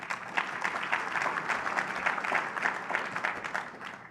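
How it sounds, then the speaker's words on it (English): A conference audience claps together in sustained, even applause, a dense crackle of many hands that stays steady throughout, with no voices rising above it. "So please give all of those folks a round of applause as well."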